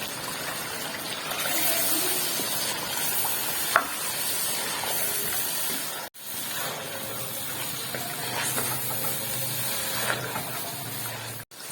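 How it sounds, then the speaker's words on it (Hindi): Boneless chicken frying in a thick gravy for a mixed vegetable and chicken curry, giving a continuous hissing sizzle with soft stirring, broken by one short pause partway through. "अब हम इस ग्रेवी में चिकन भी डाल के भून लेंगे"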